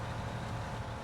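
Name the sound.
tractor engine in Farming Simulator 19 video game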